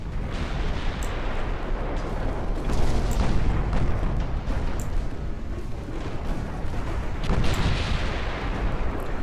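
Heavy naval gunfire from battleships in the Ultimate Admiral Dreadnoughts game, a dense continuous rumble of booming shell fire with stronger blasts near the three- and seven-second marks.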